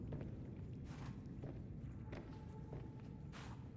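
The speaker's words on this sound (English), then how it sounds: "I get like a sound of a footstep in snow as I transition between the big room and the glass tubing" Soft, crunchy footfalls in a Subnautica Below Zero base, several irregular steps at moderate distance over a steady low ambient hum, with no talking.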